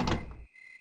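A door opening in the survival horror game Rule of Rose: a short, heavy thunk with a wooden rattle that cuts off abruptly, leaving a faint lingering tone.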